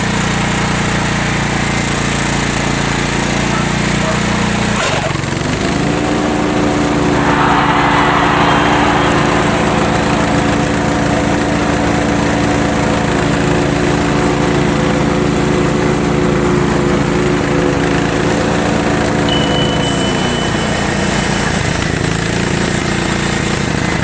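A Craftsman lawn mower with a Briggs & Stratton Quantum engine runs loud and close, a steady droning putter whose pitch drops briefly, then climbs and holds higher as the throttle is raised.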